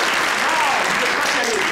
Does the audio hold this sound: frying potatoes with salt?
no